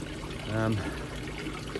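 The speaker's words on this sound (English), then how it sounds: "the peacefulness of the sound of the running water in the aquaponics" Running water trickles and pours steadily through a backyard aquaponics system in a shady garden, a continuous close wash of liquid with a brief fuller gush partway through.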